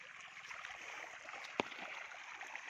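Irrigation water runs through a lush green pigeon pea field as a steady, soft, broad rushing trickle, with one brief knock partway through.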